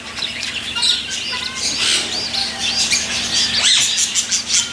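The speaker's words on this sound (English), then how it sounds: "Got all kind of birds in here." Many birds chirp and tweet in overlapping calls at an elephant village in Pattaya, Thailand, a busy, fairly loud chorus over a steady low background hum with no talking.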